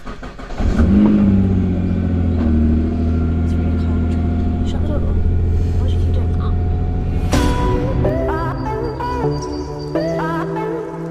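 A car engine cold-starting and revving at a supercar breakfast gathering, a sharp catch and bark followed by a loud, sustained rumbling idle with a few blips of revs, heard close up.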